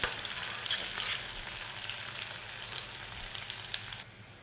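Small shallots frying in a pan and being stirred toward a light golden brown, a steady close sizzle with occasional stirring scrapes, loudest at the start and easing slightly near the end.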